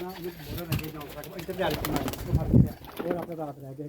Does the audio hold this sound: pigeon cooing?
yes